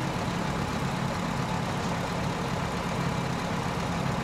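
Steady low engine drone of a tractor driving off road in the wasteland co-op game, a continuous rumble held at even loudness throughout with no breaks.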